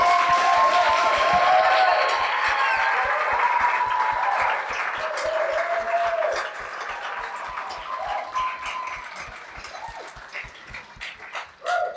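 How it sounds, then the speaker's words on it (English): Audience at a panel discussion on MeToo applauds the panelists, loud dense clapping at first that thins out, with individual claps and scattered voices and a brief whistle near the end. "could we have another round of applause for our panelists?"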